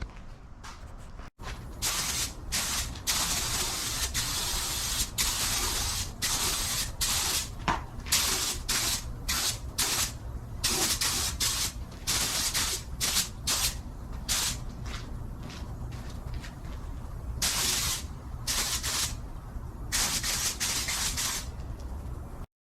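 Repeated bursts of spray-gun hiss as base coat is sprayed onto a car heater box, each pass a short broadband spurt separated by brief pauses, close and steady across the whole stretch.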